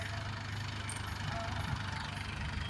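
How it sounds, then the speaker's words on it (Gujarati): A tractor engine runs steadily in a field on a 20-bigha farm, a continuous low droning rumble with no breaks or revving, fairly close and alone with no talk. "સામે હાલે છે આપણું ટ્રેક્ટર।"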